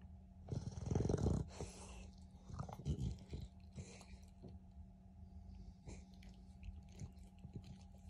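A beagle snores in irregular, raspy breaths, fairly quiet overall, with a stronger rough burst near the start and softer snuffles after, no voices.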